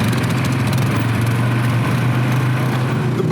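A borrowed farm cart's small engine runs loud and close, a steady low throbbing drone with no pauses.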